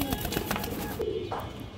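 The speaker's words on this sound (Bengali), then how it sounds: "মাশাআল্লাহ খুব সুন্দর কবুতর" A pigeon kept for sale gives a short, low coo close by against a steady background hum.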